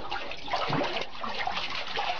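A toddler dives and splashes in a water-filled bathtub, making close, continuous sloshing and churning water sounds with brief splashy swells.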